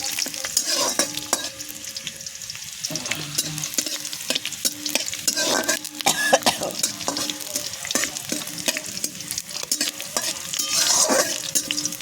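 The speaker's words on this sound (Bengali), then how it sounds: "এটাকে ভালো করে ভাজতে হবে, একদম লাল লাল করে" Something frying and sizzling in a pan while being stirred, cooked until well reddened, with steady crackle and repeated scraping strokes of the spoon, close and continuous, no talking.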